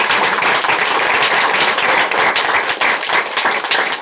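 A crowd claps in dense, sustained applause, loud and continuous throughout with no voices standing out.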